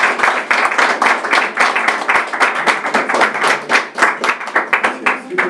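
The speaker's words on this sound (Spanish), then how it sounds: "vamos a darle un caluroso aplauso al compañero" An audience at a recovery group meeting in Iztapalapa breaks into warm applause: dense, steady clapping from many hands, loud and continuous throughout with no voices rising above it.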